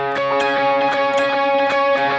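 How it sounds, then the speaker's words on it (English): Electric guitar playing a lead line through a delay effect: sustained, ringing notes with echoing repeats that pulse in a steady rhythm, close and fairly loud, with no talking. "Throw in the delay and you get this"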